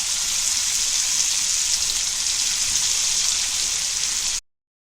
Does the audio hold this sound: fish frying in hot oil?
yes